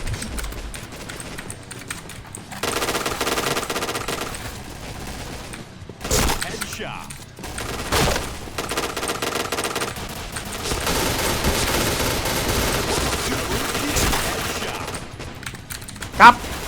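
Automatic gunfire in the shooting game Point Blank, with repeated bursts and rattling volleys of shots through the clip, some louder near the middle, over a steady background of game sound.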